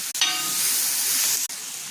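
Onion, tomato and chopped coriander sauté in a pan while cooking spot idli, giving a loud, close, continuous sizzle with brief breaks near the start and end.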